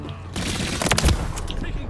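Gunfire bursts in Modern Warfare 3, a loud sharp volley of shots cracking close over ambient game noise, with a brief spray then quieter crackle.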